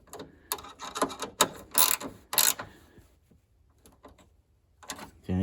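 A bolt on a MK3 Supra window mechanism is tightened with a ratchet, giving a rapid series of sharp clicking bursts up close, then a pause and a few quieter clicks.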